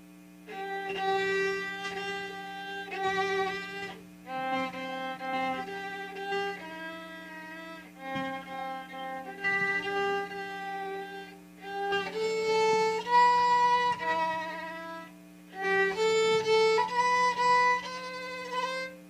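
A viola, slightly larger than a violin and held the same way, plays lower bowed notes in long, continuous phrases of moderate loudness within a string orchestra context, with no voices.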